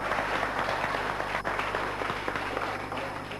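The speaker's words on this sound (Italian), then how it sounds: "vorrei indirizzare un applauso a Gigi nazionale da parte nostra" Steady applause from a crowd at the 1982 S'Isfida contest between San Vero and Milis, dense clapping that holds at an even level throughout with no speech over it.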